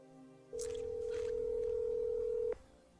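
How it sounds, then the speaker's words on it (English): A telephone tone sounds while a cell phone number is being called: a single steady, clear tone holds for about two seconds and then cuts off abruptly, with a faint hiss beneath it. "I'll just call his cell phone then."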